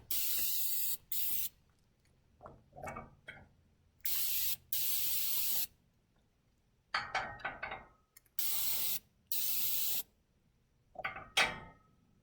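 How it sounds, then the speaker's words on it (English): Several bursts of American Polywater P7 aerosol lubricant spray hiss in short and longer blasts onto rusted tools, separated by light metallic clinks and handling of tools. "we're going to spray P7 on all these tools"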